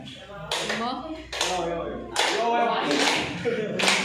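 A group performing a yel-yel cheer before a class presentation claps in a patterned rhythm, sharp bursts of clapping alternating with chanted, sung voices, all fairly close and moderately loud.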